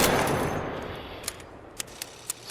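An upgraded Rattler rifle fires in ARC Raiders: four sharp, evenly spaced cracks, fairly faint against a fading background wash, with no voices.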